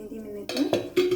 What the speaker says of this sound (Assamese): ঢাকনি দিম।